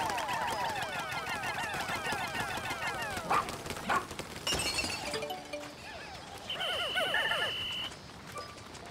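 In the Pikmin 4 video game on Switch, a dog character barks in short repeated yips, mixed with other busy game sounds and effects.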